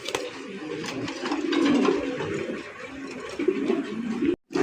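Pigeons at a pigeon farm coo in low, overlapping murmurs, many birds close together, with faint clattering and other bird noise mixed in before a brief cut near the end.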